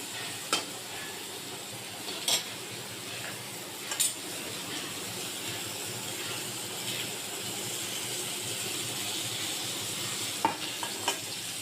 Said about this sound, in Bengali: বেগুনগুলো ভালো করে ভেজে নেব।